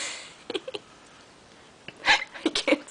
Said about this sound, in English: Don't hiccup.